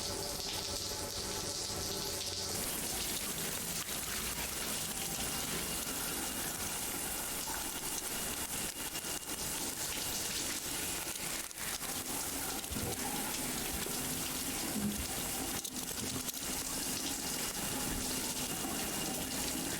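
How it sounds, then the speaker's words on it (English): Continuous shower water running in the video game Death Stranding, a steady dense hiss and splash that stays even and close for the whole stretch. "I do want to take a shower, so let's go take a shower."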